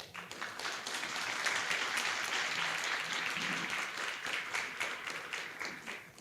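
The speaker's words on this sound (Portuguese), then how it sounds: "Patrícia Cristina Albieri de Almeida, a quem recebemos aqui com muito prazer e aplauso." An audience applauds steadily to welcome a university professor at an academic talk, with dense, sustained clapping throughout that swells slightly in the middle before easing off.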